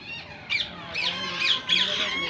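Female Indian ringneck parrot giving four harsh, rising squawks spaced about half a second apart, fairly near, over a low outdoor background hum.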